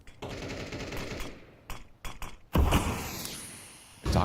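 Counter-Strike pistol fire during a pro match, sharp close gunshots in quick bursts and separated single shots, with a heavy thump and loud burst near the end.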